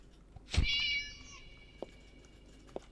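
A single clear cat meow, drawn out and fairly close, stands alone against a quiet room with a couple of faint soft knocks afterward.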